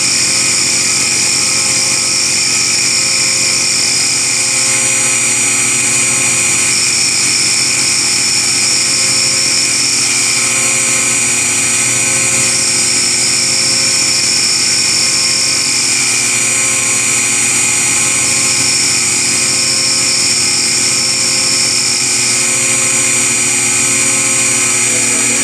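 CNC end mill profiling a Hemi valve cover, with the cutter sticking out too far and chattering, producing a loud, steady high-pitched whine and hum that runs continuously throughout.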